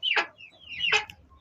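Kuchinsky chickens giving two separate, close squawking clucks with a short pause between them, loud against a quiet background.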